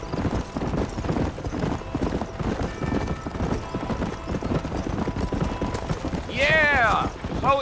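Steady rhythmic clip-clop hoofbeats from a galloping horse in the game Red Dead Redemption, close and continuous, with a brief horse whinny near the end and a voice speaking over part of it.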